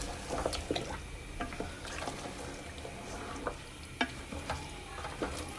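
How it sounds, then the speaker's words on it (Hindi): Beef paye masala frying in a pan with steady close sizzle under scattered scraping stirs and clinks, no talking. "अब इसको भूनेंगे, अच्छे तरीके से भूनेंगे।"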